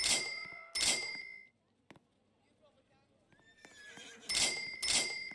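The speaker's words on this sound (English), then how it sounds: "A horse." Horse neighing in the Roblox video game, two loud whinnies at the start and two more near the end, with bell-like game tones between them. A faint voice is audible in the gap.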